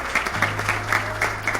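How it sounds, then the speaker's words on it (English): A round of applause from an evening audience, clapping briefly and fairly loudly with a few accented claps over a low hum. "round of applause"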